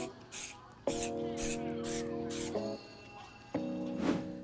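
Rejuvenator water and stain repellent sprayed outdoors onto a suede Air Jordan 1 sneaker: several short hissing bursts, followed by a longer spray, with a steady humming tone running underneath.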